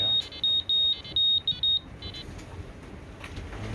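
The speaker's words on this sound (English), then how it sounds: "There's an alarm. There's something in our area." Electronic alarm aboard a sailboat on an Atlantic crossing beeps in a rapid broken series of high, loud tones, then falls silent, leaving soft wind and sea noise.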